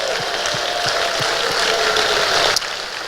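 Sustained applause from a conference audience honoring the staff and volunteers of Grantmakers in the Arts, a dense, steady wash of clapping that holds throughout and drops off slightly near the end.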